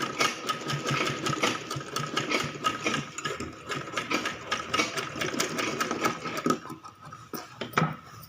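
A sewing machine runs in bursts, stitching elastic onto a pair of summer baby shorts, its needle rattling steadily and close, then pausing briefly near the end before a final short run.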